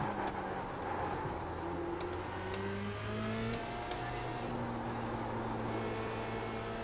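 A race car engine at Interlagos, heard from the cockpit as a steady droning note that drops in pitch and then climbs again in rising sweeps as the car brakes, shifts down and accelerates.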